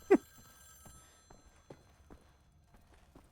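Telephone ringing in the video game Wolfenstein: The New Order, a sharp bell-like burst followed by a few fainter repeating rings spaced about half a second apart, quiet overall.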